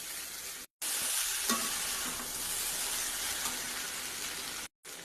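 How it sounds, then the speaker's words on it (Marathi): Flattened rice (poha) being stirred in a hot pan for kanda poha, a steady scraping and sizzling texture that runs continuously with two brief dropouts, no voices. "पोहे टाकायचे आहे यामध्ये आणि हलवून घ्यायचे, थोडंसं मिक्स करायचं"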